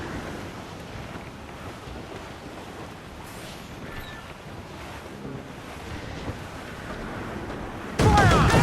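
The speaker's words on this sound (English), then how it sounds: "Wind is shaping up for a big blow" Steady wind and rough sea surf in the pirate game Assassin's Creed Black Flag, a continuous roaring wash of wind and waves, ending in a sudden louder splash or gust.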